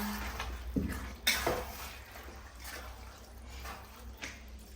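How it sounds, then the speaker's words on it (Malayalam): Water is poured into a pan of potato curry for a chapati side dish, with a short liquid splash and a couple of metallic clinks of a pot and utensil close by. "വെള്ളം ഒഴിച്ചു കൊടുക്കാം"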